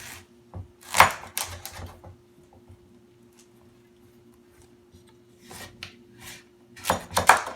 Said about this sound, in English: with the chef's knife, about halfway through the squash, punch through and use some leverage to get the rest of the way in there